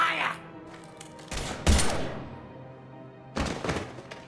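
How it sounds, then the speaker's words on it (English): Gunfire erupts in the video game Mass Effect Legendary Edition, with two loud bursts of shots and impacts separated by a quieter lull, sharp and booming over a low game soundscape. "Now open fire!"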